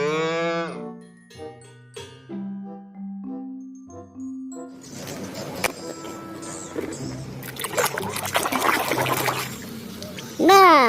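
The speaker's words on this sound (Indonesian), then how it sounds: "Widih, lihat teman-teman, ini seekor sapi." A cow moos in a long drawn-out call at the start, followed by chiming tones, splashing and trickling water noise, and a person talking.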